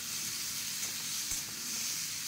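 Tomato and ginger paste sizzle in a frying pan, a steady soft hiss of frying that holds evenly throughout, faint and close with no talk.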